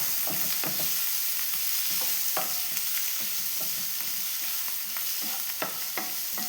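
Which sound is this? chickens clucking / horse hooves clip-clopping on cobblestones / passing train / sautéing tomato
sautéing tomato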